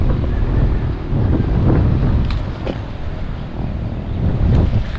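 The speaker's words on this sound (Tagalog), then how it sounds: "Sarap ng hangin" Gusty wind buffets the microphone on a small vegetable farm with okra, eggplant and chili plants, a loud, rumbling roar that rises and falls in waves.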